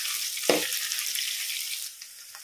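Cumin and dried chillies fry in hot oil with a loud, steady sizzle, broken by a brief clatter of a spoon or ingredients dropping in near the start.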